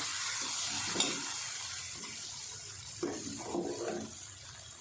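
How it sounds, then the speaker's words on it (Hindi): Masala made with tomatoes and whipped yogurt for chicken biryani is frying in a pan, giving a faint, steady sizzle with a few soft scraping stirs. "इसमें अच्छे से मसाला भून लेते हैं।"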